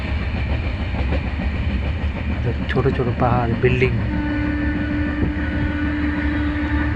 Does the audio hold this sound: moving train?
yes